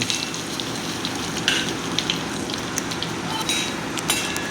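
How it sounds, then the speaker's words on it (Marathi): A bay leaf fries in hot peanut oil with a continuous close, crackling sizzle full of small sharp pops, steady and loud throughout. "तमालपत्र हे तेलात तळून घेऊ"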